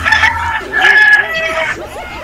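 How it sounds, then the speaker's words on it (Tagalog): Native chicken rooster crowing loudly nearby, a long drawn-out cock-a-doodle-doo followed by a second crow and softer clucking, outdoors in a rural setting. "Sir, maraming ilagang manok. Kanina pa ho yan tilaok ng tilaok, oh."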